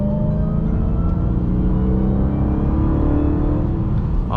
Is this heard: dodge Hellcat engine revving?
yes